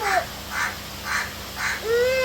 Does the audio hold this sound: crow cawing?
yes